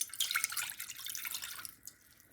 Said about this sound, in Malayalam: നമുക്ക് ഒരു പാത്രത്തിലേക്ക് 1 കപ്പ് വിനാഗിരി ചേർത്ത് കൊടുക്കാം